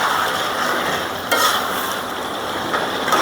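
Country chicken meat with potatoes stirred and sautéed in a pot, giving a loud continuous sizzle with scraping of a spoon against the metal and a couple of sharper clanks, no speech.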